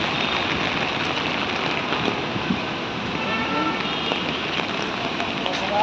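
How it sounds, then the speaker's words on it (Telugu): Heavy rain drumming on an umbrella held by someone walking outdoors to the office, a dense and steady close-up patter without a break. "ఫుల్గా పడుతుంది వర్షం."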